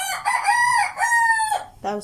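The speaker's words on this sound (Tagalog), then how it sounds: "may mga manok" A rooster crows loudly up close, a long drawn-out call, followed by a short clucking burst from chickens at the end.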